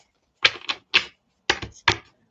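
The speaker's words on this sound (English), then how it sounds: "I'm gonna go ahead and shuffle this deck as well." Crystal angel card deck being shuffled by hand, five short crisp riffling bursts with brief pauses between them, close and clear in a quiet room.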